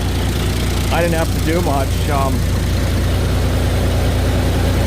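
A diesel tractor engine idles after starting, a steady low rumble that runs close and constant throughout while someone speaks briefly over it.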